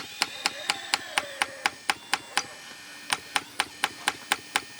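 Rapid, evenly paced strikes from a small RC machine's hydraulic hammer hit concrete nearby, with a brief pause midway before the pounding resumes.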